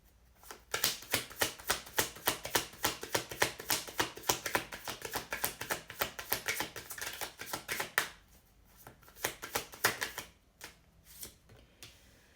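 Tarot cards shuffled briskly by hand in a quiet room, a long run of rapid crisp flutters and taps, close and fairly loud, easing briefly before a final few riffles.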